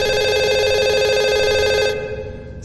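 A phone ringing in the horror video game Spidermall, a steady electronic ringtone with sharp repeating tones that holds loud and even, then cuts off and fades within a few seconds.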